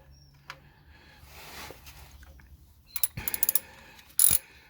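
A ratchet with a 14mm socket loosening a car's sump bolt from under the vehicle: a faint click early on, then a quick run of sharp ratcheting clicks and a final louder burst, no talking.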